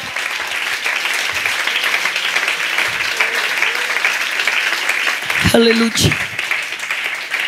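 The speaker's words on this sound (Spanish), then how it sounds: "Dele un aplauso a la gloria de Dios en esta." Church congregation applauding to the glory of God, a steady, full round of clapping throughout, with a voice briefly calling out over it near the end.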